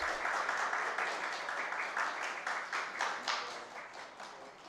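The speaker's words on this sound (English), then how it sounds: "Give our Minister a round of applause as she enters." A dense, steady wash of audience applause at a Reggae Month morning event in Jamaica greets an arriving minister, many hands clapping together at full volume before easing slightly toward the end.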